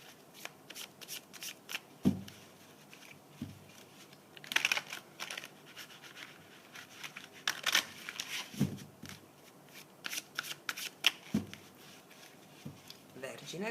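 Tarot cards are shuffled by hand up close, with repeated crisp riffles and slaps in irregular bursts, alongside a quiet voice talking.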